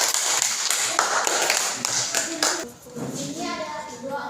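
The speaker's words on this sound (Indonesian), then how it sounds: "Tepuk tangan untuk semuanya dulu." An elementary school class claps hands in a burst of scattered applause, with children's voices chattering over it before the clapping thins out.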